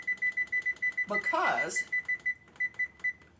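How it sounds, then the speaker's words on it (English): A kitchen oven timer, set while a potato hashbrown casserole bakes, beeps in a steady, rapid series of short electronic tones. A voice briefly talks over the middle, and the beeping resumes alone. "I'm going to set my timer"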